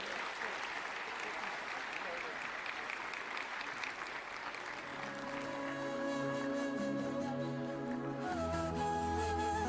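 Applause from an audience at a Turkish stage program in Istanbul, steady clapping from many hands building under a voice speaking over a loudspeaker, then continuing as music begins.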